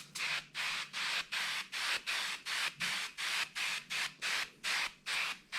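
Car mat cleaner sprayed from an aerosol can in about a dozen steady hissing bursts, each roughly a third of a second with short pauses between, close by and with no talking.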